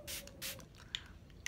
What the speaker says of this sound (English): you wanna take off the cap and you're just gonna spray it on your face